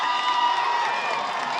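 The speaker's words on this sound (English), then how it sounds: "So the San Dimas crowd is getting pumped up here on 3rd down and 8" A San Dimas crowd at a high school football game cheers and shouts steadily from the stands for a short moment, a dense, distant roar with no breaks.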